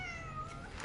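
A cat meows in the video game Cronos: The New Dawn, one clear drawn-out call heard close over a steady background hum.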